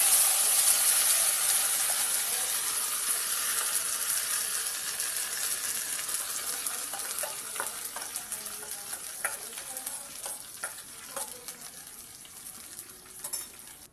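Spice paste, nigella seeds and asafoetida fry in a hot pan with a loud, hissing sizzle that gradually softens, while a few utensil clinks and scrapes come through toward the end.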